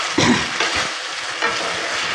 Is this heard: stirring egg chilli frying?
yes